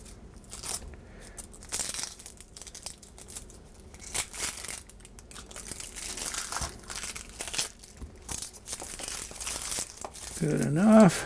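Hands peeling the dry, papery skin off an onion while preparing a beef stir fry, with close, irregular crinkling and crackling rustles that carry on steadily, and a voice speaking at the very end.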